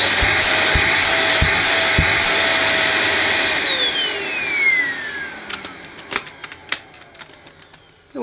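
A Vax Power Reach handheld vacuum cleaner runs with suction through its hose, a steady loud whine that winds down and falls away, followed by scattered clicks and knocks near the end.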